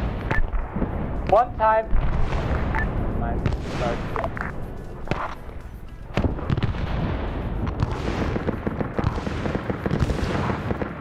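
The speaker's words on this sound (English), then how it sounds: "A lot of grenades going in." Grenade explosions from a SOG Prairie Fire defense of Khe Sanh session: a dense barrage of booming blasts and crackling detonations, loud and near, repeating throughout alongside gunfire, with someone talking briefly over it.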